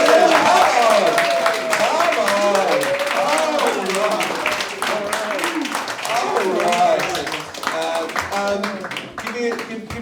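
Comedy club audience at a roast battle show clapping and cheering to welcome the judges, dense loud applause throughout with a host talking over it and voices calling out.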